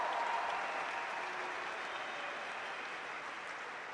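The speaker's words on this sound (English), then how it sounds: "I think you can hear from the crowd's reaction how entertaining that match was" Sustained applause from a large crowd after a match, a dense, even wash of clapping that fades slightly over a few seconds.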